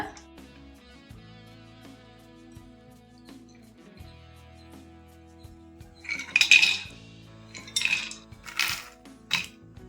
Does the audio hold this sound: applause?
no